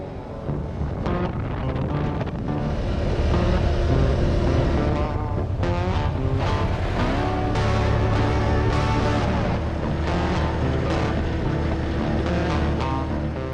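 ATVs riding along the Baraga Plains trails in Michigan's Upper Peninsula, engines droning steadily with shifting revs and wind buffeting the microphone throughout, loud and close.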